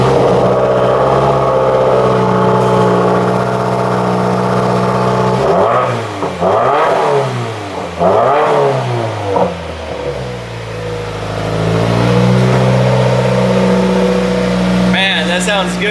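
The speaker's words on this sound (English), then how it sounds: "we got the exhaust on there. Let's give it a cold start," A Subaru WRX fitted with a new axle-back exhaust starts cold and idles with a throaty burble, then is revved hard several times in quick bursts before settling back to a loud, steady idle close by.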